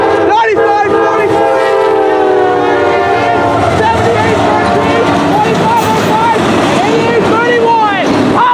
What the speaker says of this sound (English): he's got a dash 9W on the point.